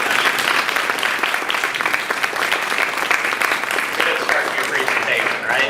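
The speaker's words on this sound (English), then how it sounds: "So could we give them a round of applause right now?" An audience at a historical research project presentation gives a sustained round of applause, dense steady clapping filling the room from start to finish.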